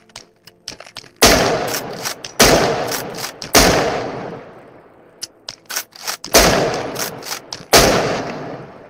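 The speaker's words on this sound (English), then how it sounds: "I'm gonna shoot this." Gunshots fired in the VR shooter Into the Radius ring out as loud, close single cracks, five or six of them spaced about a second apart. Each shot has a long echoing tail, with quieter clicks and handling noises in between.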